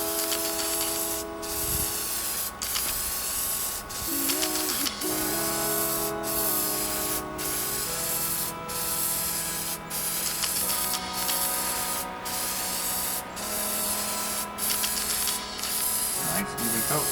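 Spray paint hisses onto an aquarium in a long series of bursts, each broad hiss lasting about a second with short gaps between, close and loud, while a person talks softly underneath.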